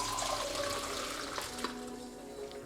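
Boiled herbal branch decoction poured at home, a steady close liquid stream running alone without pause.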